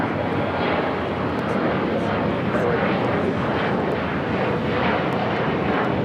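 A Boeing Dreamliner airliner takes off at LAX with a loud, sustained jet engine roar that fills the whole clip and holds steady, while a voice talks over it.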